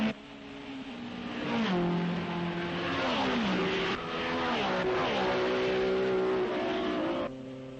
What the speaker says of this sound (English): This is Joe Bonnier's Porsche, never far away from his teammate Dan Gurney